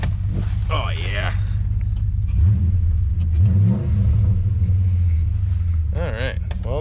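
A truck engine just got running and revving near the trailer it arrived on, a loud steady rumble that swells in a couple of revs, with people talking over it.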